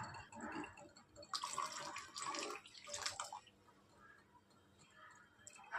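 Kewra water, about a quarter cup, poured into rose syrup, a soft watery splash lasting under two seconds amid otherwise quiet kitchen sounds.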